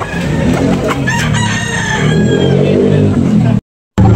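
Rooster crowing at a busy chicken market in Tabunok, Talisay, one long loud crow rising over crowd noise and traders' voices, then cutting off abruptly near the end.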